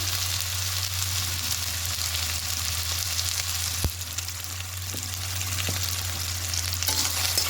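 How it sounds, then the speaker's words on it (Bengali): Chopped tomatoes with salt fry in a pan for a vegetarian potato-paneer ghugni, giving a steady, even sizzle throughout, with a couple of sharp clicks from a utensil partway through and no voices. "এবার একটু ভেজে নেবো একটু নরম হয়ে যাবে পর্যন্ত"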